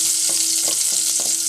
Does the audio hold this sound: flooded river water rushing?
no